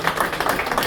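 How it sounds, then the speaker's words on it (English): An audience at a clergy engagement meeting gives a round of applause, a brisk, continuous wash of clapping at steady volume for the whole short stretch. "Let's give him a good round of applause, ladies and gentlemen"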